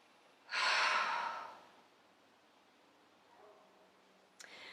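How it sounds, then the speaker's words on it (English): Someone takes a single deep breath in with a loud rushing inhale lasting about a second, followed by quiet and a faint click at the end. "take a breath"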